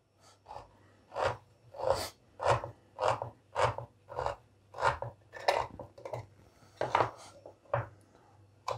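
A 338-gram tin of premium-grade stewed beef from the Orsk meat plant is opened with a can opener. Sharp metallic cutting strokes repeat steadily, roughly twice a second, close and clear with no talk.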